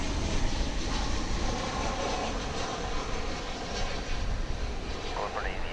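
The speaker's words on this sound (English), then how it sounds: "here comes the flight from Mexico City that we talked about" Airliner arriving at DFW International Airport gives a steady, broad jet roar at moderate distance, with a faint talking voice over the noise.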